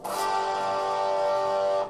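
A single sustained guitar chord rings out after one strum, holding steady and close with no talking.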